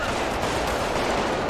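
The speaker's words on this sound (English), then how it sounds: "Shots fired at Sandy gas station." Rapid gunfire in the video game GTA V during a roleplay police shootout at a gas station, a dense continuous burst of shots filling the whole moment with no speech.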